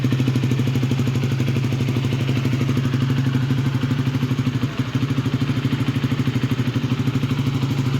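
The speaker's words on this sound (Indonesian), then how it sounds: "Jadi memang beginilah suara mesin gua" A warm Honda Sonic motorcycle engine idles up close with a steady fast clattering pulse and a deep droning hum, with a brief dip partway through.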